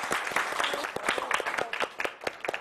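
A small studio group claps briefly, a lively patter of distinct nearby handclaps running for a couple of seconds.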